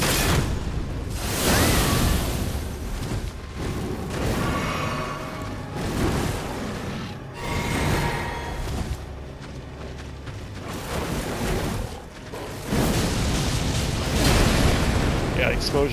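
Explosions go off during a boss fight against a fast wolf at the Moonlight Altar in Elden Ring, loud repeated bursts and booms layered over game music and effects, with a person talking over the action.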